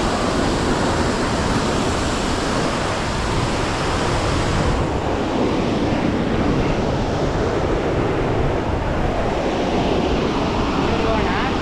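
Water crashing and roaring at Dabbe Falls, a steady, loud broadband rush that fills the scene without a break.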